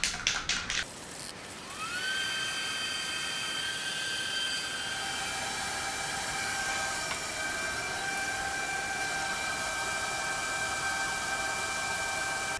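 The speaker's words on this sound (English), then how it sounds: "I'm going to put a quick coat of semi-gloss on the bottom" A can of semi-gloss coat sprays onto the bottom of a sculpture base with a sustained, even hiss close by, after a few rattling clicks at the start.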